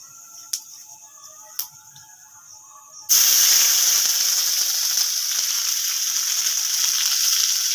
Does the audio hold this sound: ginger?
yes